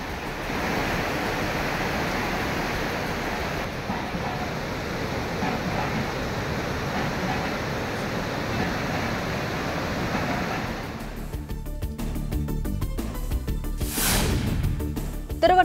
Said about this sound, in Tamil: உடுமலை அருகே உள்ள பஞ்சலிங்க அருவியில் கடும் வெள்ளப்பெருக்கு.